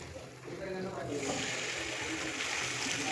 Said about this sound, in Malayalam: അപ്പോൾ ഇനി ഈ ചിക്കൻ നമുക്ക് അതിലേക്ക് ഇട്ട് കൊടുക്കാം.